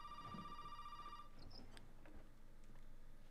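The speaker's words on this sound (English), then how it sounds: "The phone should start ringing." A telephone rings in the Resident Evil 7 video game, a steady electronic trill heard faintly for just over a second before it stops, followed by quiet room ambience with small clicks.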